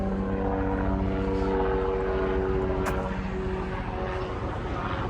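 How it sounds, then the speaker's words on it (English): Police helicopters circle over downtown Baltimore, a steady droning rotor and engine hum continuous throughout, mixed with city street noise from below. "We got the Baltimore choppers up top."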